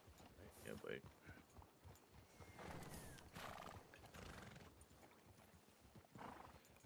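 Horses in a 1901 convoy neigh and whinny near the microphone while hooves clip-clop irregularly underneath, with people talking over the animals throughout.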